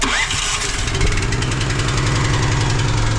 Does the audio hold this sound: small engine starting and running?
yes